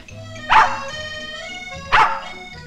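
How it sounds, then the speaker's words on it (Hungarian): Two sharp dog barks about a second and a half apart, loud and close, ringing over a steady musical backdrop from a 1959 film. "Miféle kutya vagy te?"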